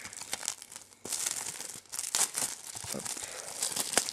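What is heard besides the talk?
unwrapping plastic packaging of a Spider-Man game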